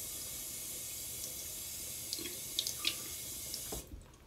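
Tap water runs steadily in a continuous hiss with a few small splashes, then cuts off abruptly near the end.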